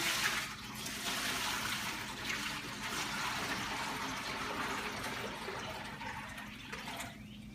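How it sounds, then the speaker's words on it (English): Steady pouring of maple sap splashing into a pan, a continuous broadband rush with no talking. "we'll just pour the 33 cups of sap into"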